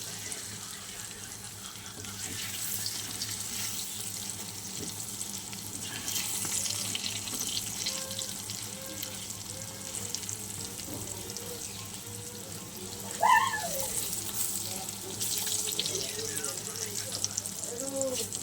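Water hisses and sizzles into a hot pan of frying cumin seeds and spices, a steady close sputter and bubbling that runs throughout, with a brief louder splash midway.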